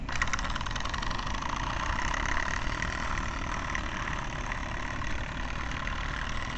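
PMR No. 3 stationary plant engine running steadily in a workshop, a continuous close chugging drone with an even rhythmic beat and no talking.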